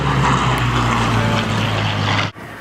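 A vintage propeller aeroplane at Shuttleworth drones loudly and steadily at close range, its engine a deep continuous rumble that cuts off abruptly near the end.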